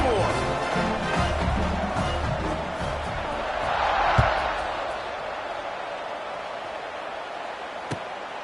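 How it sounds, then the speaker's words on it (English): Stadium crowd at a college football game against Utah, buzzing after a scoring drive: a broad, sustained roar that swells briefly midway and then settles, with a voice heard over it. "this crowd is buzzing after that last score"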